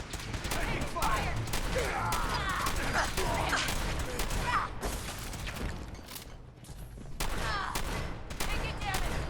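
Dense gunfire in the Fallout 4 video game, rapid bursts of automatic shots crackling almost continuously with a brief lull before resuming, shouted combat voices mixed in.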